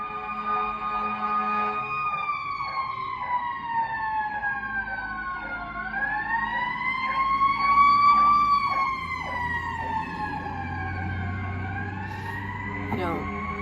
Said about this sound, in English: Sorry, you hear the siren in the background.